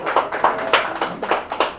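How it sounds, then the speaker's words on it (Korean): Scattered hand claps with uneven rhythm, a handful of people briefly clapping nearby at a lecture, fairly quiet and short-lived. "박수."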